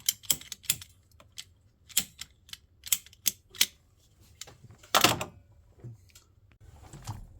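Rubber map hose cut with cutters during a gauge install, a string of sharp close clicks and snips in an irregular rhythm over near silence, with a louder rustling crunch partway through.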